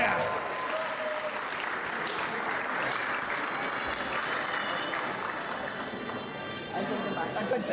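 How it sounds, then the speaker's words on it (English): Guests at a Hindu wedding ceremony at Lucien's Manor in Berlin, New Jersey give the newlyweds Sonia and Avinash a sustained round of clapping, dense and steady throughout, with crowd voices mixed in beneath it. "Give a huge round of applause to our newlyweds, Sonia and Avinash"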